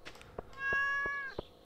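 A cat in Stardew Valley gives one drawn-out, clear meow over soft rhythmic tapping game sounds, close and moderately loud.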